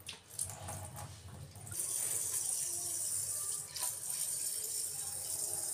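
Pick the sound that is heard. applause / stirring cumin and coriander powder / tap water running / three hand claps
tap water running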